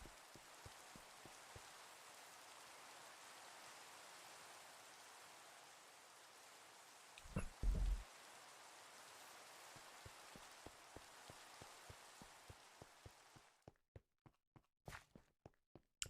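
Rain falls steadily in a city-building video game, a dense, even wash of patter that stops abruptly near the end, leaving sparse footstep-like clicks and taps.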